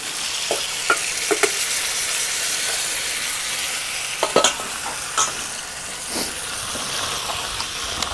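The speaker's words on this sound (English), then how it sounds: "we're going to throw that in with our crabs and toss it all through" Chilli crabs are tossed with a blended sauce in a hot pan, making a loud, continuous sizzle with occasional clanks and scrapes of stirring, heard up close.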